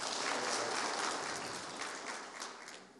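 A press conference audience for a Turkish oil wrestling league breaks into loud, sustained applause, a dense wash of clapping that holds steady throughout.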